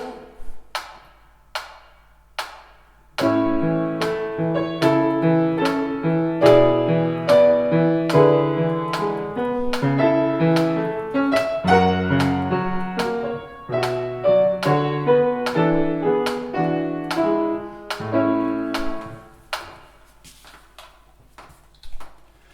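A metronome ticks at a slow, steady 72 beats per minute, first alone, then under piano playing, then alone again at the end.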